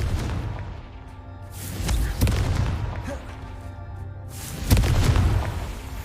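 Confringo blasting spell in Hogwarts Legacy, a few booming explosive bursts with rumbling low tails spread across the stretch, medium loud, over a steady game background with some faint voice.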